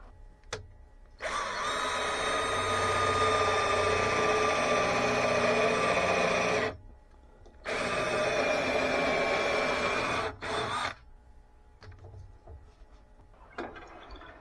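Forstner bit flattening the end of a birch bowl blank for a natural-edge bowl, a loud steady whirring drill-like grind in two long bursts separated by pauses, with no talk.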